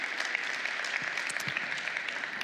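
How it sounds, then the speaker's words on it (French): A conference keynote audience claps steadily and fairly loudly, a dense even applause that holds throughout without voices. "on les applaudit bien fort tous les trois"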